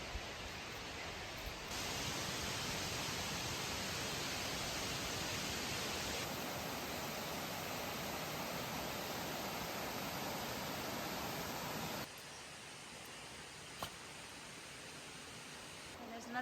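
A creek rushes below a high hiking trail near waterfalls, heard as a steady, broad wash of flowing water, far off and continuous, with a slight drop in level partway through.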